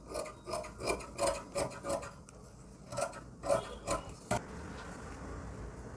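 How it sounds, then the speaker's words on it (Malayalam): Scissors cutting through folded saree fabric, a quiet series of rhythmic rasping snips about eight in a row, close and soft, with no speech. "കട്ട് ചെയ്ത് ലെവലാക്കാം."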